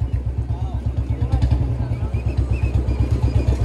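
A Royal Enfield Bullet motorcycle fitted with fat tyres runs its engine in an even, rapid, deep thumping beat, close and prominent, with faint talk over it.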